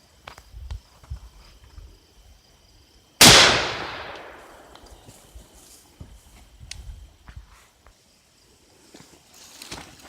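A single loud shotgun blast at about three seconds, firing 2 3/4-inch number 4 birdshot at a flak vest outdoors, with a sharp crack and a long decaying ring, surrounded by faint rustling and footsteps.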